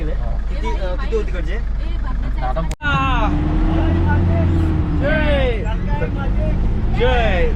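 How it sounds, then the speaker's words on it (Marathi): A vehicle's engine runs at a steady low rumble after starting, mostly buried under loud, overlapping chatter from passengers inside. "तर मित्रांनो आपली गाडी स्टार्ट झालेली आहे"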